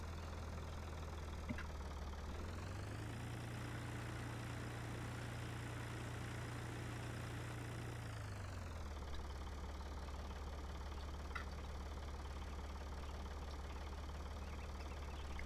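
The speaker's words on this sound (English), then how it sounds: "This little tractor sure does suit this job." A small tractor idles in Farming Simulator 2013 with a steady low drone, its pitch rising briefly as the revs climb and then settling back to a constant idle, sounding alone with a few faint clicks.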